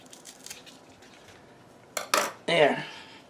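Sansevieria plant roots being cut: after a quiet stretch, a few short, crisp snips ring out close by, three sharp bursts in quick succession.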